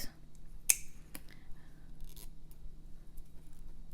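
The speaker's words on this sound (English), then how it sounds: "These roots I will cut. I will cut, see, because it's useless" Scissors cut dry orchid roots with one crisp snip and a second fainter one, close and quiet, against a low background hum.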